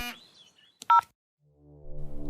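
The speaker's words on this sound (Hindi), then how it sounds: "तभी रोहन का फोन आता है तमन्ना के पास" A phone rings as a call comes in, in a Hindi short drama: a brief electronic tone burst partway through, then a rising layer of sustained background music, with no one speaking.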